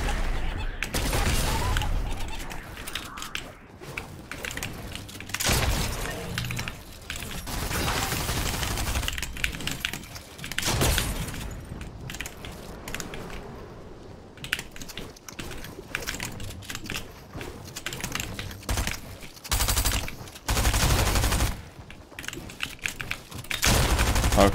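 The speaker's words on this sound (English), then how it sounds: "Calm down with your little SMG, man." SMG fire in Fortnite comes in rapid bursts of dense, clattering shots that stop and start repeatedly over a busy, loud game mix.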